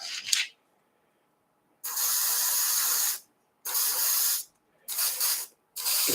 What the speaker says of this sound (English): given the localized and small amount of product I'm actually spraying